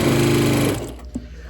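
A sewing machine stitches quilted fabric pieces for a kite wall hanging, running in a fast, even, close mechanical chatter for most of the moment, then slowing and stopping with a brief clunk.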